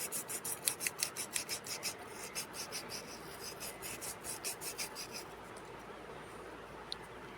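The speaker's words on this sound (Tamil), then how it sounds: "நைஸான எம்மரியை வச்சு கொஞ்சம் தேய்ச்சிக்கிட்டால் நம்ம பிளேடு போடும்போது ஃப்ரீயாக உள்ளே போகும்." Fine emery paper rubs a rusty mixer jar blade in quick, rhythmic rasping strokes, close and fairly quiet, then eases into softer scraping.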